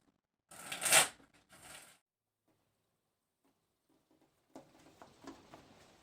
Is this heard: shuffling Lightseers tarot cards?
yes